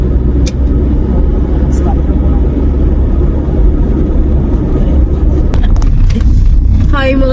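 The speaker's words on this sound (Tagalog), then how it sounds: "we're driving back home now, going to the Ipoh City" A car driving along a road toward Ipoh City, a steady loud low rumble of engine and tyres throughout, with a few brief higher clicks and a squeaky chirp near the end.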